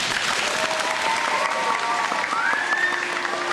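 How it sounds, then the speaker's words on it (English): A crowd claps at a fire safety award announcement in Barrie, with steady, dense applause throughout and a faint whistle or cheer rising partway through. "You guys can clap too."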